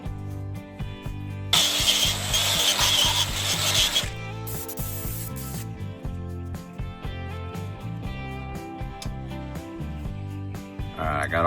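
Wire wheel scrubbing corrosion off hardware from a 1980 Dodge Power Wagon makes a harsh, loud rasping burst over a steady background drone, then fades to lighter grinding and rubbing.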